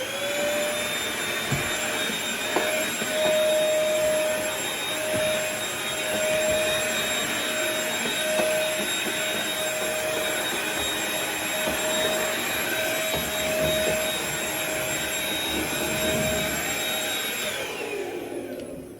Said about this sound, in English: I always carry a little vacuum with me